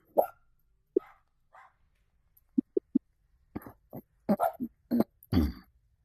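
A puppy dog in the virtual reality game DetectiveVR barks in short, sharp bursts, first sparse and then quicker in irregular clusters, close and clear against silence.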